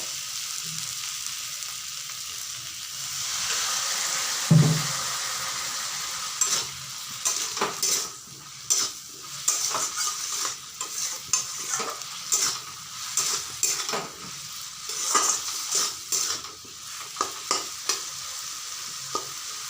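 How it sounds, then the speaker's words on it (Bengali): Spiced potatoes and dried loitta fish are stir-fried with a splash of water in a pan: a hiss of sizzling, then repeated scraping and clinks of a spoon against the pan in an uneven rhythm, close and fairly loud. "এখন এতে আমি সামান্য একটু জল দিয়ে তারপর কষাবো"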